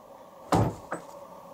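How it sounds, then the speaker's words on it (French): Two knocks land on a door, the first louder and fuller, the second softer, about 0.4 seconds apart, in a quiet room during a paranormal investigation at a haunted location. "Tapez dans la porte, par exemple."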